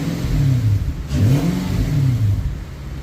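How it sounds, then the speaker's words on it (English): An Infiniti M45 with a VK45DE engine and a pulley/tensioner issue revs up and settles several times in a row, the pitch rising and falling with each blip, loud and close with no talk. "See if I rev the engine, see what happens."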